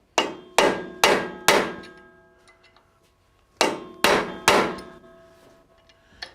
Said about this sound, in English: I'm just chipping away at the metal on the bracket